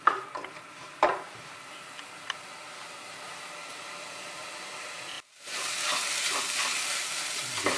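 Meat madras simmering and frying in a pan with whole chilies, a low steady sizzle with a few sharp utensil taps early on, then after a brief break a louder, fuller frying hiss with scattered stirring sounds.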